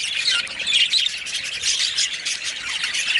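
A flock of backyard birds around a feeder and water tray chirps and squawks nonstop, a dense, close chorus of harsh calls and tweets with no talking.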